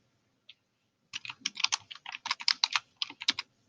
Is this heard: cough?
no